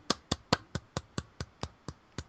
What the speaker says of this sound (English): It's the weakest ass applause, but whatever